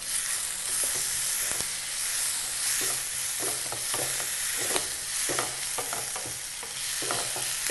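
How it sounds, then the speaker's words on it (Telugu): Green chillies and curry leaves fry in hot oil for mutton korma, a constant close sizzle with repeated spoon scrapes and clacks against the pan as they are stirred. "అలాగే కట్ చేసి పెట్టుకున్న పచ్చిమిర్చి వేసుకొని బాగా కలపాలి."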